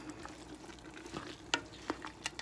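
Food being stirred in a frying pan, faint soft scrapes and a few light clinks of a utensil over a low sizzle, quiet and close.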